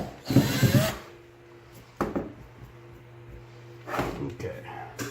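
A power drill whirs in three short bursts into an old Sargent padlock, close and sharp, separated by quiet pauses, until the drill bit catches and breaks.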